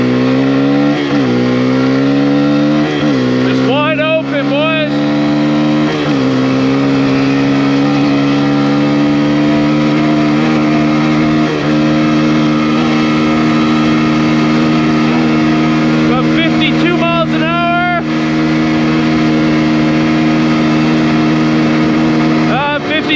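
A Kawasaki KLX140RF dirt bike revs and accelerates hard at full throttle from a drag-race start, its engine note rising through several quick gear changes, then holding a loud, steady high-pitched drone up close.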